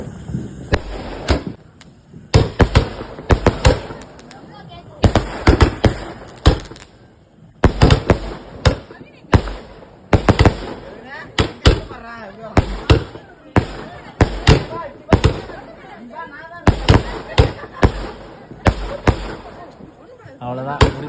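Diwali firecrackers burst one after another near at hand, a rapid string of loud cracking bangs with brief gaps between volleys, while people shout and talk excitedly throughout.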